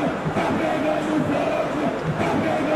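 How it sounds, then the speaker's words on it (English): Football stadium crowd at a Brazilian league match between EC Juventude and Atlético Goianiense, a broad steady roar of many voices sustained throughout with swelling cheers, no clear talk on top. "crowd appreciates good football all round there"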